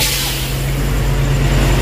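A passing truck gives a sustained, loud rumble and broad airy hiss, like air brakes, throughout a short burst of road noise with no voices.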